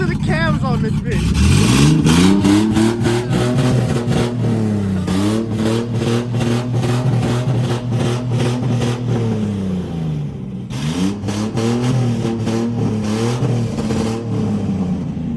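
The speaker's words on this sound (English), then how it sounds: "listen to the cams on this bitch" A cammed car engine revs repeatedly at a car meet, its loud, choppy lumpy idle rising and falling through several throttle blips, with voices talking nearby.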